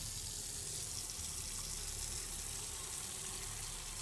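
In the Autopsy Simulator video game, a water tap runs steadily into a container, a constant hissing gush with no voices.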